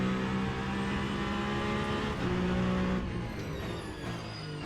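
Peugeot 9X8 hypercar in the sim racing game Le Mans Ultimate at Bahrain, its engine droning steadily and loudly with shifting pitch as it accelerates, no voices.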